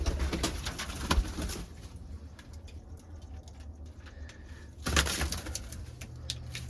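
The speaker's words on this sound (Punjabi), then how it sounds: "ਲੋ ਬਈ ਹੁਣ ਕੱਢਦੇ ਆਪਾਂ ਕਬੂਤਰ" Pigeons coo in soft, repeated calls close by, with a steady low rumble and occasional rustling and knocks around them.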